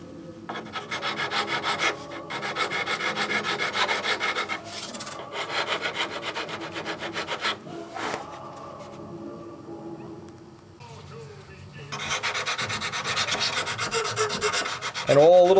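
A prototype horn nosering part for a Windy U Master 806 is sanded by hand, with long bursts of steady, close rasping strokes broken by short pauses and a few brief knocks.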